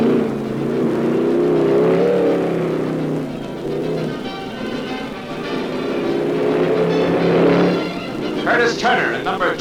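A 1956 stock race car pulls away from the pit, its engine rumbling steadily near and loud under a voice narrating, with another engine roaring in over the last seconds.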